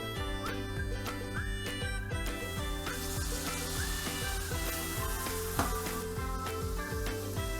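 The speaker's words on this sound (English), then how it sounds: "continue to stir them around and cook those onions in fairly slowly on a low to medium heat" Chopped onions frying slowly in a pan over low to medium heat, a steady soft sizzle with crackles, scattered stirring clinks and gentle ticks running throughout, close and fairly quiet, with no talking.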